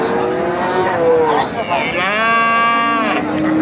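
Cattle low and moo loudly and up close at a rural cattle market, with bulls traded ahead of the Qurbani festival. One drawn-out moo rises and fills most of the clip over steady crowd noise from the market.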